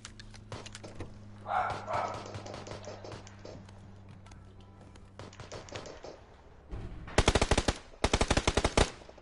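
Gunfire in a video game cracks out in rapid bursts of sharp, loud shots, sparse at first and then dense automatic volleys near the end over a low steady hum.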